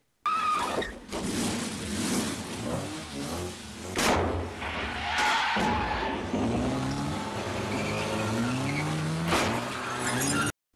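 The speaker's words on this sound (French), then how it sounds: "la mémorable course-poursuite en voiture entre Beaumont et Rosen" Film car chase through Paris, racing along the quays and down the Trocadéro esplanade and steps: loud, close engine roars and revving with sharp crashes and impacts, tire squeals and swooping pitch glides, dense and continuous with no talk.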